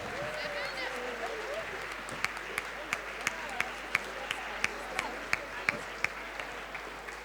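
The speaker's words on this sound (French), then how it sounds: "Des applaudissements pour le Tchad." Applause for Chad at an African group gala evening at UNESCO, steady crowd clapping throughout with several sharper individual claps ringing out near the mic, under a faint background voice.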